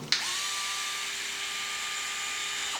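A small electric screwdriver whines steadily for a few seconds as it removes screws from the spur gear cover of a Traxxas Maxx RC truck, close and continuous with a constant pitch.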